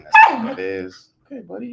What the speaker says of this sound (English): I got the dog in here today.